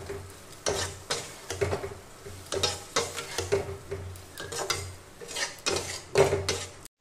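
Prawns with poppy seed paste and turmeric being stir-fried, with a low sizzle under repeated scraping and stirring strokes in a pan, quiet and close, in steady bursts with no talk.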